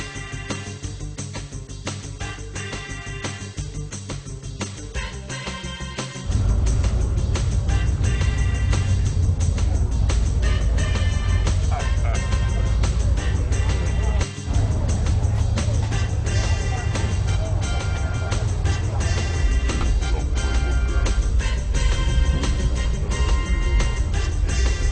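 A home-built custom Batmobile rumbles loudly and steadily, its engine noise jumping to a heavier, sustained roar partway through as it drives, with no talk.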